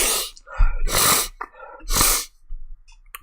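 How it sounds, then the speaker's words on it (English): A person sniffling from allergies, several sharp, breathy nasal inhales in quick succession, close and loud, separated by short pauses. "Sorry, Ty, for all sniffles, allergies, and all."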